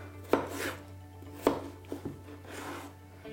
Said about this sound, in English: What we want to do with the potatoes is actually cut them beforehand